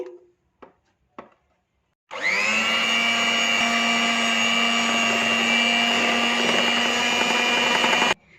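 Electric hand mixer beating cake batter with cocoa powder, preceded by a few short knocks, then a steady loud whirring motor hum for about six seconds before switching off abruptly.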